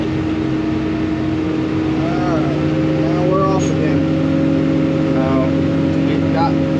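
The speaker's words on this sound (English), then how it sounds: "Now we're driving." A vehicle drives along steadily, its engine and road noise forming a loud continuous drone, with brief chirping squeaks rising over it at a few points.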